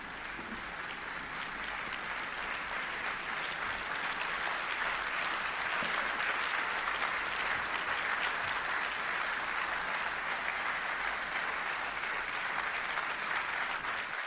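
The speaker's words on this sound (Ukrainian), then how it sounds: "Я сподіваюся, ви почули ці оплески на рахунок ваших слів, які зрезонували в цій кімнаті." Applause fills a hall in Warsaw, with a dense, even wash of many hands clapping continuously and at a moderate distance for the whole stretch.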